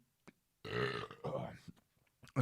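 One long, loud, close burp rumbles for about a second, with a short sound before it and a brief voice at the end.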